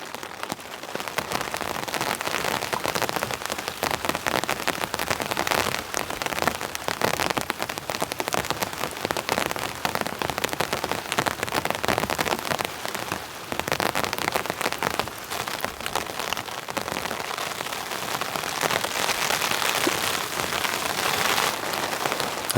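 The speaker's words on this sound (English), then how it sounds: "We have a nice rain coming down now" Heavy rain drums steadily on a camping tent shelter, a dense, continuous patter that stays loud and even for the whole stretch, with no voices.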